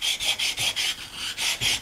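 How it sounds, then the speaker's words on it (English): A small stone is rubbed back and forth against the back side of a ring gear, giving rapid rhythmic rasping strokes, about eight in under two seconds, close and fairly loud with no speech. "All you got to do, get a little stone. And you do this to the back side of your ring gear also."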